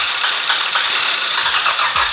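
Rebuilt Hyundai G4KE car engine cranking on a first start attempt, a steady mid-pitched rattling churn of the starter and engine held at an even level throughout, close by with no talk.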